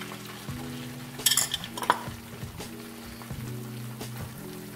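An egg cooks in a pan for spinach-filled omelets, giving a soft steady sizzle with a few bright crackles and light clinks of a utensil against the pan.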